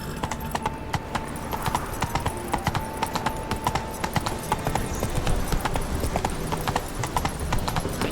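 Galloping horse hooves in The Witcher 3: Wild Hunt, a steady, rapid clip-clop rhythm running throughout at close range over a constant outdoor ambience, with no talk.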